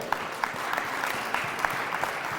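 Church congregation applauding steadily, a dense and continuous wash of clapping from a sizeable crowd with a few sharper claps standing out, sustained throughout.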